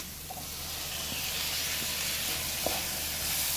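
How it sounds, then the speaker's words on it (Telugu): Tomatoes sizzling in a pan with onions fried golden, a steady close hiss of frying with faint stirring clicks and no talk. "ఓకే, ఆనియన్స్ అయితే గోల్డెన్ కలర్లో వేగినాయి. సో ఇప్పుడు టమాటా పెట్టుకున్నాము."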